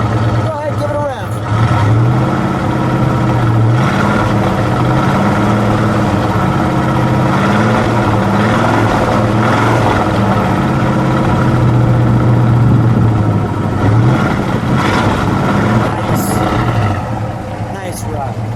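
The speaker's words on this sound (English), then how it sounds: "Go ahead, give it a rev." A 1971 Plymouth Road Runner's 383 V8 with flared exhaust tips runs loud and close, holding a steady lumpy idle with a few throttle swells, while people talk over it.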